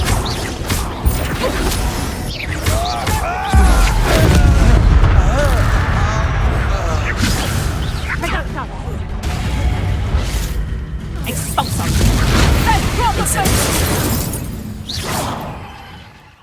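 Incendio fire spell blasts in the Hogwarts Legacy game burst and crackle among clashing spell impacts and shattering sounds, loud and close, with voices shouting over the combat.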